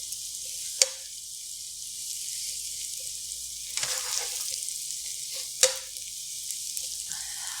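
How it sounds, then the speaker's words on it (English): Eggs seasoned with pepper and salt sizzle steadily in a hot pan while being scrambled, with a few sharp scrapes of the utensil against the pan at intervals. "And we'll scramble that up."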